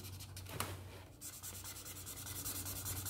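A marker scrubs back and forth on paper, filling in a graffiti letter S with quick, quiet rubbing strokes in a close, steady rhythm and a brief pause midway.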